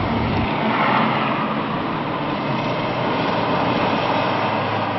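A Mercedes-Benz C-Class 220 CDI engine hums steadily while driving, a broad continuous drone with road and wind noise, constant and loud throughout with no talking.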